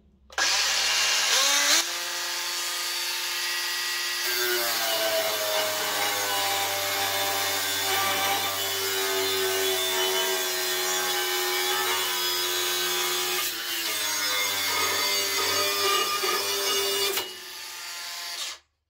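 A Bosch GWX 18V-10 SC cordless angle grinder on its first speed whines up and cuts steadily through wood with a harsh grinding rasp for most of the stretch, then spins down.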